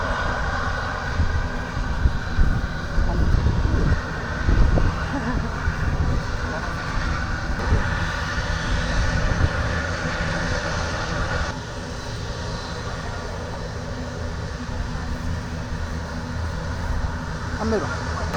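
A foreign aircraft forced down by F-16 fighter jets during an interception and forced-landing drill, its engine roaring steadily and loudly for the whole stretch with a broad rushing drone, while voices speak faintly underneath.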